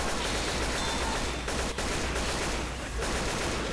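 Gunfire in Left 4 Dead 2 as players shoot explosive barrels on a city map, a dense, steady rattle of shots filling the whole stretch with a couple of brief dips, loud and close, with no talk over it.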